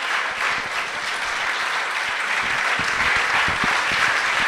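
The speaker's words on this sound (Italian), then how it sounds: "ancora un ultimo grande applauso per questa serata" Audience applause fills the hall at the close of an astronomy evening talk, a steady dense clapping sustained throughout at even loudness.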